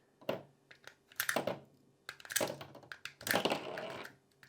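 Rounds are stripped one by one from a pistol magazine using a Maglula unloader, four separate close clicking, scraping bursts spaced about a second apart.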